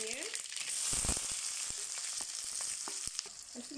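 Onions frying in hot oil with mustard seeds for a crab gravy, a close, steady crackling sizzle with scattered sharp pops and a few light stirring clicks, no voices.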